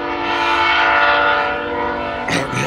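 A train horn blares loudly and steadily with layered tones, the rumble of a passing train beneath in Nebraska, then a brief change near the end.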